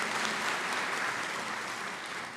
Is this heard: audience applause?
yes